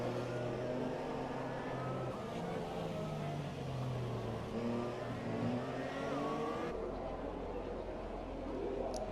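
A Force India Formula One car accelerates on a qualifying lap at the Spanish circuit, its engine revving steadily with rising and falling pitch, loud and continuous throughout with a distant, broadcast-like quality.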